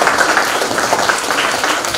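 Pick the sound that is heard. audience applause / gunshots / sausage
audience applause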